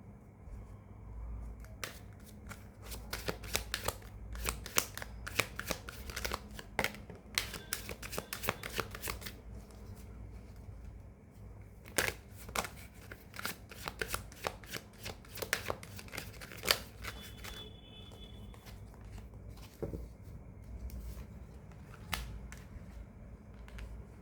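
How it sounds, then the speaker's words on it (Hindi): Tarot cards shuffled by hand during a Hindi tarot reading: a steady run of soft, papery riffles and flicks, close and fairly quiet, with brief pauses and no talking. "let's pull more cards,"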